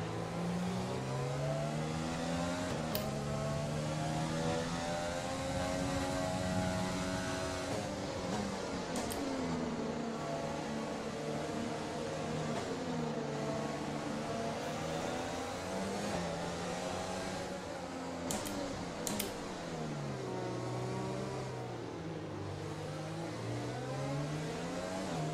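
An F1 car engine in the video game F1 2020 on the Monaco formation lap drones continuously, its pitch sweeping up and down through repeated revs and gear changes, steady and fairly loud throughout.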